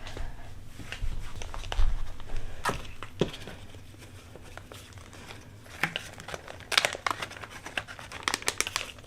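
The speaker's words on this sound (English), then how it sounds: "Let me just grab a Ziploc bag." A plastic Ziploc bag crinkles and rustles up close in irregular bursts, with sharp crackles scattered among softer handling noises.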